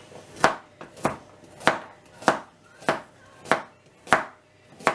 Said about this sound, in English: And just chop them up in like that.